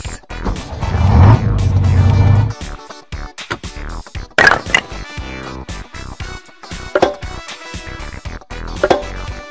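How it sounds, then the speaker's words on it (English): A toy-style vehicle sound effect for a bus in a children's learning game, with a loud engine rumble for the first couple of seconds, then a series of brief horn-like and musical blips. "Bus."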